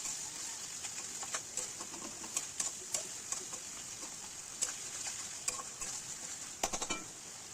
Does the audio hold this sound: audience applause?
no